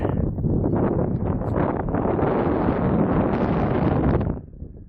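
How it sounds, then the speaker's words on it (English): Strong gusty wind blowing outdoors where a quad is being unloaded, a loud, steady roar of buffeting wind noise across the microphone for about four seconds that drops off sharply near the end. "Oh man, that wind."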